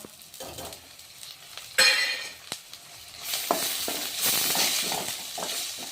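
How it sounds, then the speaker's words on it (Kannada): Ginger-garlic paste sizzles in hot oil in a pan for an okra gravy. A steady hiss runs under repeated scraping stirs, with one sharp spatter burst and louder frying near the end; no voices. "ಇವಾಗ ನೋಡಿ ಗೋಲ್ಡನ್ ಕಲರ್ ಬರೋವರೆಗೂ ಫ್ರೈ ಆದಮೇಲೆ ಟೊಮ್ಯಾಟೊ ಆ್ಯಡ್ ಮಾಡೋಣ"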